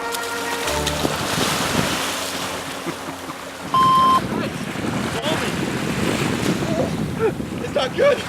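Ocean waves roll in at a cold beach, a loud continuous surf wash with wind buffeting the microphone, joined by brief tonal blips and scattered voices.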